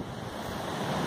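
Sea waves wash and rumble in a steady, close surf sound, with some wind, for about a second and no voices.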